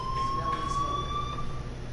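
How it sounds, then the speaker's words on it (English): A fire alarm rings in the Life is Strange video game, a steady high electronic tone sounding continuously over faint background noise. "do you hear that fire alarm?"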